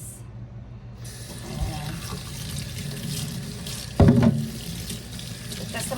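Water runs from a tap into a sink during a soap and skincare test, a steady wash of flow with a louder splash about two-thirds through and a brief spoken word.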